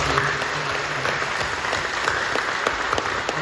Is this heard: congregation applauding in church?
yes